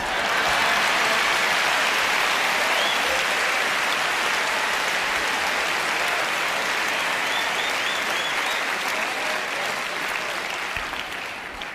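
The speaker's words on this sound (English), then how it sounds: "Now you can clap." Audience clapping after a magic trick, a sustained, dense burst of applause from a crowd that holds steady for over ten seconds before tapering off slightly at the end.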